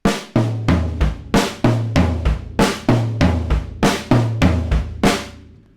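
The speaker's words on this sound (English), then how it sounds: "this rudiment that goes down the drums, that goes snare, rack, floor, kick." A linear drum fill played repeatedly, each stroke stepping down from snare to rack tom, floor tom and kick in a steady, crisp cycle.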